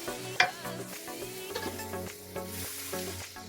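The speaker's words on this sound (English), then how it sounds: "we're going to add the ground beef to the pot" Lean ground beef sizzles quietly in a dry pot with no oil, with soft stirring scrapes and a sharp utensil clink early on.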